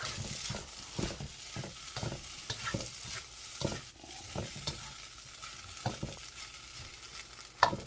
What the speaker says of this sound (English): Put our cabbage and onion back in, and then give that a good stir around.